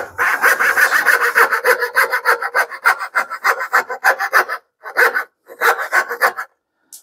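A handsaw cuts dovetail tails in wood for a desk drawer, a close, loud run of rapid rasping back-and-forth strokes that pause briefly, then resume in short bursts.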